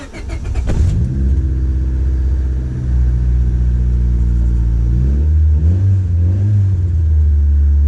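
A car engine with no exhaust fitted starts and idles loudly, then revs up twice with a raw, unmuffled roar, close by and alone.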